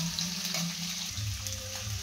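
Onions fry in a pan over a medium flame for vegetable chitranna, a soft, steady, fairly faint sizzle that continues throughout without any talking.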